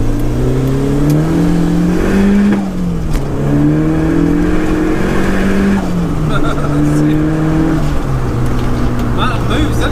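A Mk1 Ford Fiesta Supersport engine revs loudly while driving, pitch rising and dropping through several gear changes, with people talking in the car over it.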